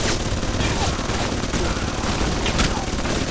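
Turret gunfire roars in the spy RPG Alpha Protocol, a continuous, loud, rapid barrage of shots with a few sharper bursts standing out.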